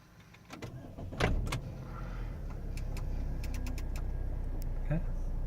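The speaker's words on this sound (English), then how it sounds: "Let's start the car up." A 2007 Saab 9-3 turbo convertible with about 69,900 miles starts up. A few key clicks and a brief cranking burst give way to a steady, low engine idle that holds close and even, with faint clicks over it.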